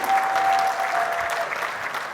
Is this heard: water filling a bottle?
no